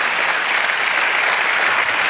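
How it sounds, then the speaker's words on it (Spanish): A church congregation claps together in praise of the Lord, a dense, steady wash of applause that stays loud and even throughout, with no voices rising above it. "Denle un aplauso al Señor."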